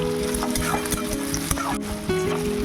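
Chopped green chillies with onion and tomato frying in a pan for Bengali-style chirer polao (poha), a busy continuous sizzle with stirring scrapes and a faint background hum, no talking.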